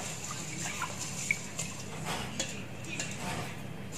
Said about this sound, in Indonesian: Nah, ini kita aduk-aduk.